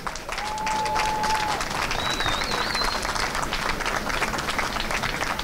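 A crowd at an outdoor March for Life gathering applauds a singer with a loud, continuous wash of clapping, joined by a couple of shrill whistles rising above it.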